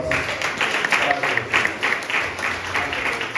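A church congregation applauds as a female pastor is welcomed, rhythmic clapping that rises and falls in regular pulses, with voices faintly beneath it.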